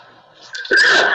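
A single sharp sneeze in a French-language biblical Hebrew lesson, starting with a soft intake and ending in a loud, close burst.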